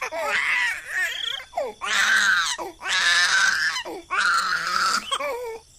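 A baby cries in loud, wailing bursts, four long sobbing cries separated by short gasping pauses, close and alone.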